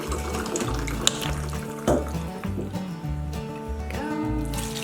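Water runs steadily from a tap into a measuring cup, filling it for an Instant Pot potato soup, a continuous close gurgling splash with a couple of small knocks and brief pauses.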